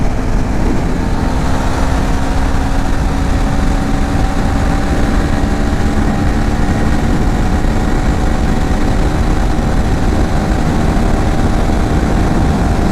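A 2025 KTM Adventure 390 motorcycle engine pulling hard on an open highway produces a loud, continuous droning roar mixed with heavy wind rush, never letting up.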